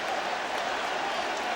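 Stadium crowd roaring after Mike Piazza's two-run home run at a Mets game, a dense, loud, continuous wash of cheering with no breaks.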